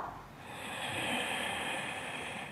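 Slow diaphragmatic breath drawn in through the nose and filling the belly, a soft airy rushing that swells and holds, close and quiet, with no talking.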